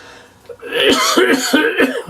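A close, harsh fit of coughing, several rapid rasping coughs in a row after a brief pause.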